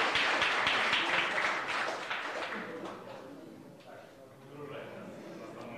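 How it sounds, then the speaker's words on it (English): A crowd at a meetup in Moscow applauds a contest winner, the dense clapping strong at first and then thinning out and fading after about three seconds, when a voice starts talking. "Let's give a round of applause to the winner."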